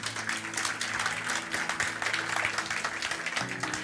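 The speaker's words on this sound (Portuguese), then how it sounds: "Pode dar um aplauso ao Senhor por isso?" A church congregation applauding during a sermon, a steady patter of many hands clapping at moderate distance, with faint musical tones sounding underneath the clapping.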